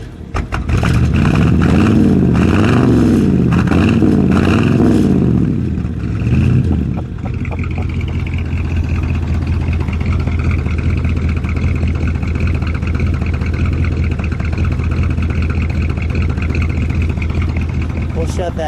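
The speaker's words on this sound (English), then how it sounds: "Give it a rev." A 1956 Chevrolet Bel Air convertible's 263 V8 revs hard for several seconds with rising and falling engine surges, then settles into a loud, steady idle rumble, close to the microphone.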